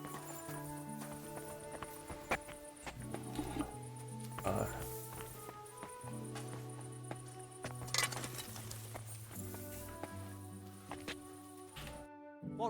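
Horse hooves clip-clop at a steady walking rhythm in the medieval video game Kingdom Come: Deliverance 2, set under a background music score with voices talking over it.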